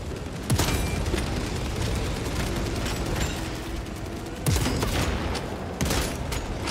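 Heavy gunfire in Warhammer 40K: Space Marine 2, a continuous barrage of rapid shots punctuated by a few louder booming blasts, close and loud throughout.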